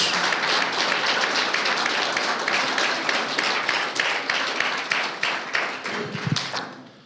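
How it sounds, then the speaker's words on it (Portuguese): A church congregation applauds during an Easter sermon, a dense, loud wash of clapping that holds steady and then fades toward the end, with a few thumps at the close. "Você pode aplaudir ao Senhor os meus melhores dias"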